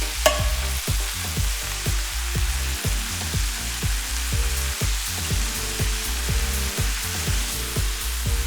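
Kale sautéing in a pan with crushed garlic and lemon juice, a steady close sizzle punctuated by regular scraping stirs about twice a second, with no talking.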